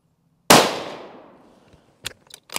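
A single loud, sharp rifle shot from an Accuracy International AT-X chambered in 6BR cracks close by and decays over about a second, followed by a few faint clicks and clatters.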